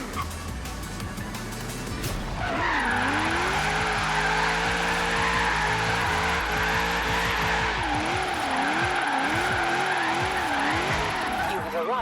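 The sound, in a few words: car engine and tires drifting in video game Forza Horizon 3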